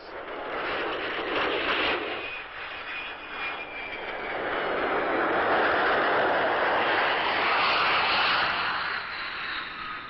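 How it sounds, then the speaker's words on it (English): Military propeller aircraft returning to Vadati Air Base after exercise strikes, a loud sustained engine drone that swells and fades as planes pass overhead, with no talking. "After the strikes, the planes returned to Vadati Air Base."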